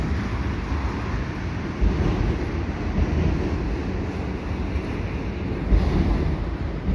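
A CN mixed freight train with empty flat cars, auto racks and transformer loads rumbles past nearby in a continuous low roar, steady and unbroken, with wind buffeting the microphone.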